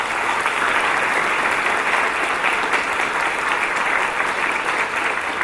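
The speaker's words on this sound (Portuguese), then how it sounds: "A ele também pedimos uma salva de palmas." Steady, even applause from an audience at a Bahá'í community gathering, a sustained wash of many hands clapping at constant volume with no talk.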